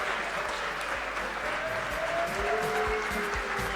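Applause from an audience fills a prize ceremony at a fund launch, steady and dense throughout, with faint voices mixed underneath.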